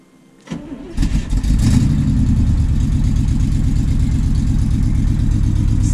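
A 1979 Corvette engine cranks briefly and catches almost at once, then settles into a loud, steady rumbling idle close by.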